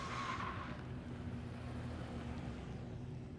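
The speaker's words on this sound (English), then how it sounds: "Big clutch kick from Grundy as he takes that borrowed car all the way to the wall." A borrowed drift car on a British Drift Championship 2018 Pro qualifying run gets a clutch kick and slides toward the wall, giving a brief tire squeal at the start before a steady roar of engine and tire noise.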